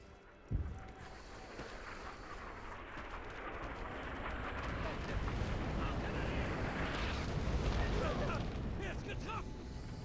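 An artillery salvo in the video game Heroes of the West, opening with a sharp boom and then settling into a sustained low rumble of distant fire and explosions, with speech faintly present.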